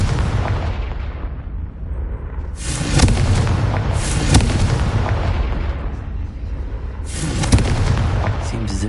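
Confringo blasting spell explosions in Hogwarts Legacy: two loud, booming fiery bursts several seconds apart, each swelling and rumbling over a steady low background roar.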